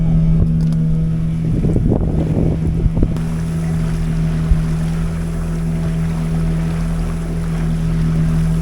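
A boat ride on the sea near a coastal fort, with a constant loud rumble of engine and wind buffeting the microphone, plus a brief burst of splashing or knocking early on.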